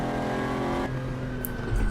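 A Lamborghini Countach's engine drones loudly and steadily at Barcelona in Assetto Corsa, then the tone shifts and a brief tire squeal cuts in near the end.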